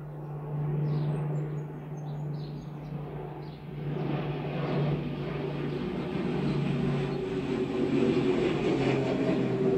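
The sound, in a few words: aeroplane flying overhead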